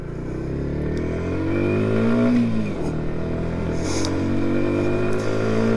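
Yamaha MT 125 motorcycle accelerating through the gears, a loud close engine note rising in pitch, dipping briefly at a shift, then climbing again.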